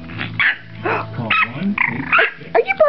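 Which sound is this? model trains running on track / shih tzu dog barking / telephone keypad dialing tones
shih tzu dog barking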